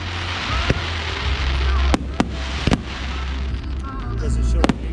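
Juneteenth fireworks in Lubbock, Texas, go off in loud nearby cracking bursts and pops over a constant rumbling crowd noise, with several distinct sharp reports spread through the clip.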